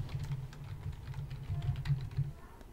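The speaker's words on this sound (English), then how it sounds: "I can type a message to them and say, good job with your presentations" Computer keyboard keys tapped in quick, irregular bursts while a chat message to students is typed, close and fairly quiet, with a soft low hum underneath.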